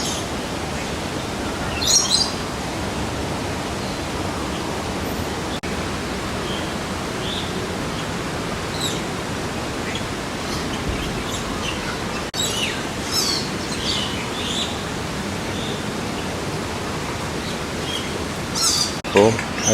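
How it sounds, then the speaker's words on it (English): Birds chirp and call in the aviary of Hong Kong Park, scattered tweets in short bursts over a constant hiss of ambient noise heard from an elevated walkway. "It's interesting, you can stand in one spot and a great many birds will just fly by."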